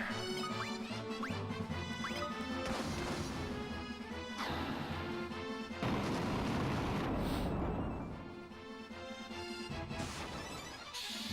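Fire spell striking several enemies at once in the Final Fantasy II battle, a steady run of crunchy, crackling impacts layered over continuous game music throughout.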